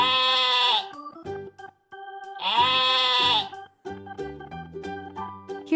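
A voice imitates a sheep's bleat twice for a farm animal toy segment, each long wavering baa followed by short toy-like clicks and tonal knocks between the calls.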